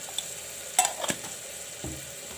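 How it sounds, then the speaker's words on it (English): Jeera and black pepper paste frying in a pan for rajma curry, giving a quiet sizzle broken by a few short stirring clatters. "Put in the jeera and black pepper paste."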